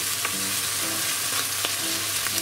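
Corn with butter frying over high heat in a pan, a dense, loud, continuous sizzle broken by light periodic stirring scrapes.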